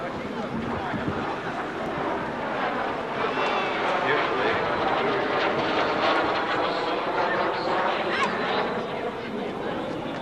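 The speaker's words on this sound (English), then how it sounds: "get a ride in this jet" A jet aircraft flies at the Wings Over The Illawarra air show, its engine a steady, loud, broad roar that holds for the whole stretch, with a commentator talking over it.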